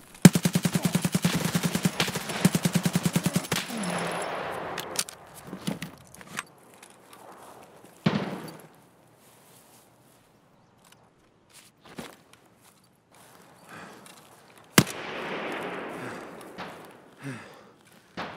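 In a shooter video game, a quick burst of rapid gunfire opens, then scattered footsteps and thuds come and go at moderate to faint levels, with another sharp shot near the end.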